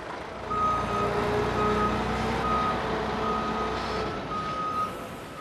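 A lorry delivering chicken litter reverses, its engine rumbling steadily beneath a regular series of loud, evenly spaced reversing beeps.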